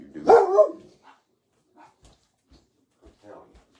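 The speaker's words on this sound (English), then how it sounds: "You barking at poltergeist now? Quit it." A dog barks loudly once with a short burst of yelps near the start, followed by a few softer scattered yips and a muffled bark later, in a quiet indoor room at night.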